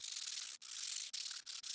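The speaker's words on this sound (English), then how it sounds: "simulate a year's worth of scratching by sanding each of the three new build plates" Steady, close scraping of 180-grit sandpaper rubbed back and forth across a 3D printer build plate, with brief pauses between strokes.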